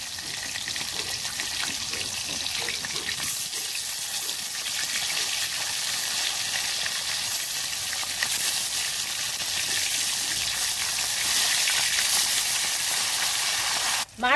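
Flipped chitol fish pieces keep frying in oil with a loud, constant hiss and crackle that swells slightly toward the end; no one speaks.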